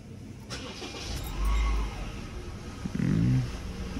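A Honda Civic just back from service has its engine started: a low cranking burst, then the engine catching and turning over with a rough rumbling idle, close and alone without speech.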